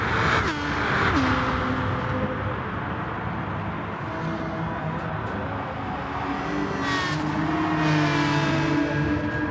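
Racing cars in a video game race roar continuously, engines climbing and dropping in pitch as several cars run close together in a slipstream, a dense loud layered drone.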